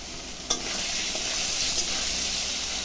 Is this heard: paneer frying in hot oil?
yes